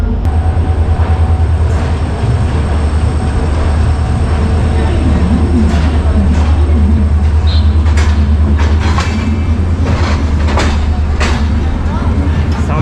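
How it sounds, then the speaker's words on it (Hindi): Swarn Shatabdi Express train departing New Delhi railway station, a loud steady rumble of rolling rail cars with rhythmic wheel clatter and squeaks, station ambience underneath throughout. "तो जब कोई ट्रेन यहाँ से खुलती है फिर मैं आपको इस ट्रेन के यहाँ से डिपार्चर दिखाता हूँ"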